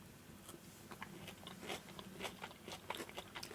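Bites into a crunchy praline chocolate bar with almonds and hazelnuts from Rennes give quiet, close, crisp snaps and crackles scattered irregularly over a few seconds, with no talking.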